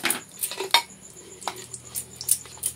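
A fried puri is set down into an iron kadhai, giving light clinks and taps of metal and utensils in a short, close-up series of sharp contacts with no talking.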